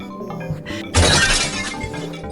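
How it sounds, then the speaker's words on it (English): In a horror video game, a cat smashes through a television with a sudden loud shattering crash of breaking glass and debris. Quieter rumbling game sounds come before it and trail off after. "Smashing through the TV, breaking the couch in half."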